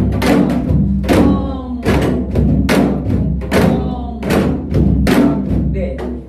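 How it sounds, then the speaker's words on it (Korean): Deep janggu drum strokes thump in a steady repeating pattern, close and loud, each beat followed by a sharper slap, practicing a Korean folk song accompaniment rhythm. "세 번만 장구를 한번 익혀보고 노래를 들어갈게요"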